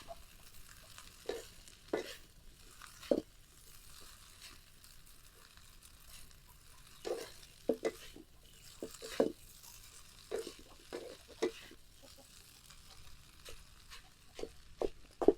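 Boiled idli noodles stirred and fried in a pan, faint low sizzle with repeated scraping and clattering of a spatula at irregular intervals, close by.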